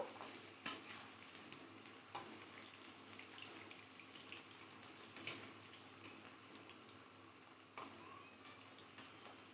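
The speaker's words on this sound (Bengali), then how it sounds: "বন্ধুরা দেখো আমি আলুটাকে লাল করে ভেজে তুলে নেব" Potatoes frying in a pan for an egg do-pyaza dish, a faint steady sizzle broken by occasional clicks and knocks of a utensil against the pan.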